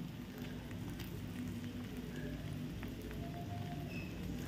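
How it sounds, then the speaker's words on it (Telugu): Finely chopped onions added to a hot pan of fried ginger-garlic paste while making chicken liver fry: a dense, steady crackling sizzle, close and continuous throughout with no talk. "ఇప్పుడు మనము ఆనియన్స్ వేసుకుంటాము,"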